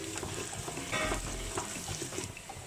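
Garlic sizzles and crackles steadily in hot oil while being stirred for a devil's curry, a close, continuous frying hiss with small pops throughout.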